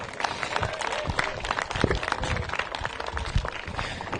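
Crowd applauds at an outdoor racing awards ceremony in Laconia, a steady wash of many hands clapping at moderate volume for about four seconds, without talking over it.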